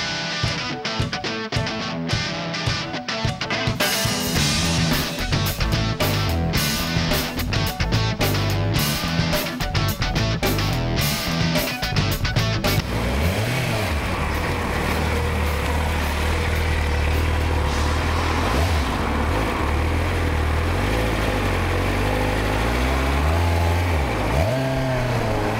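A superbike ridden on the road, its engine roaring loud and close with sharp rhythmic pulses early on, then settling into a sustained rising and falling drone of revs and wind as the ride goes on.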